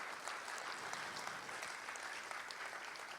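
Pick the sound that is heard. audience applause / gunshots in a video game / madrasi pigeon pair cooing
audience applause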